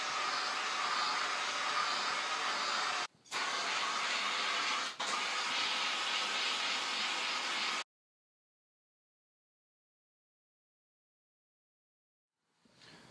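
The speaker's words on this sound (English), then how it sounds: "So I decided to break out some cargo straps and my map gas." A MAP gas torch roars steadily while heating windshield plastic, cutting out briefly twice before stopping abruptly, followed by several seconds of silence.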